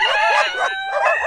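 A rooster crows close by, a loud, strained call with a couple of rising and falling bursts.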